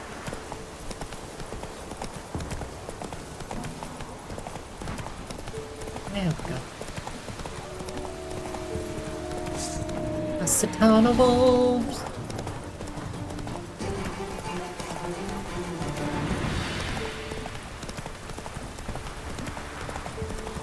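Roach the horse trots with rhythmic clip-clop hoofbeats throughout in the video game The Witcher 3, with a brief whinny midway and someone talking over the steady gait.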